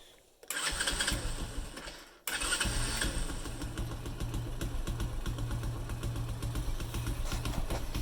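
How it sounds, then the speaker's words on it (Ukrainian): Forte 125 motorcycle engine, which runs unstably at high revs, cranks and catches twice in quick succession, then settles into a loud, close, steady running rumble with a slight rhythmic pulse. "Зараз заведу прямо отак."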